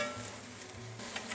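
Ginger frying in a pan for a Cantonese black bean stew with sausage and dried shrimp gives a close, steady, hissing sizzle with faint crackles. It runs continuously through the brief moment with no talk.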